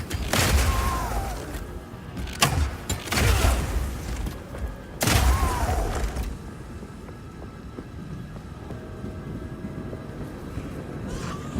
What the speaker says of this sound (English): you can explode any grenades that happen to be on the ground